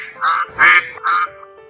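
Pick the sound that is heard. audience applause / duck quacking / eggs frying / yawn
duck quacking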